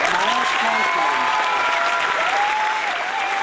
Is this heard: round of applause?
yes